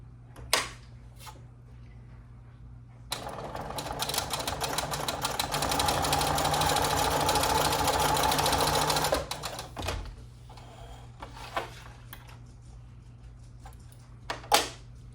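A sewing machine stitches quilt fabric along a drawn line, a fast steady whirring run of about six seconds preceded and followed by quiet handling clicks and taps.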